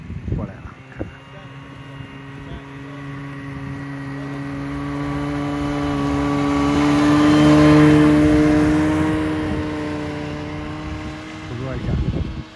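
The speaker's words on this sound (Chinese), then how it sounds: "啊，看看啊，这雪地摩托啊" Snowmobile engine passing over snow during an Arctic northern lights trip, a steady harmonic drone that swells to a peak midway and fades away, with faint voices at the start and end.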